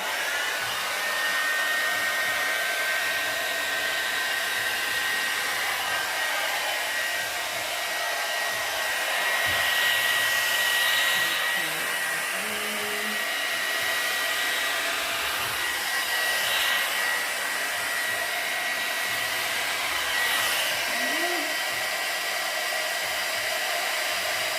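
Hair dryer blowing air onto an acrylic Dutch pour painting, a continuous loud whooshing roar that runs steadily throughout with slight shifts in intensity.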